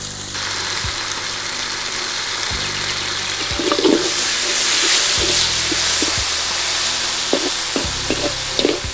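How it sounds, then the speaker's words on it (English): Tomato sauce hitting hot kangkung egg fried rice in a pan, giving a steady hiss of frying with occasional scrapes and clinks of stirring throughout. "Now she is adding some tomato sauce"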